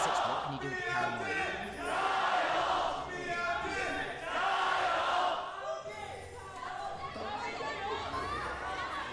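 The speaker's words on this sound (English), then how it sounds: "See the crowd getting into it too." Crowd cheering and chanting in rising waves at a League of Legends LPL esports match between Weibo Gaming and Bilibili Gaming, with excited commentators talking over it throughout.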